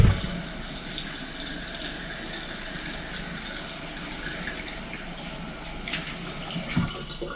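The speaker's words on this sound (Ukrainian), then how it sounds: "заливаю просто холодною водою." Steady rushing of cold water pouring into a glass jar of pickling cucumbers, a continuous hiss and splash throughout, with a brief clink near the end.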